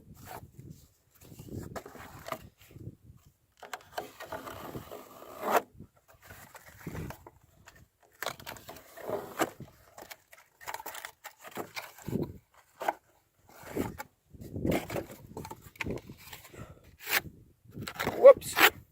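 A budget Damascus-steel fixed-blade skinner knife, the Knives Ranch Slick Skinner, shaves and cuts into wood in short, irregular scraping strokes, close by and fairly quiet, with pauses between the cuts.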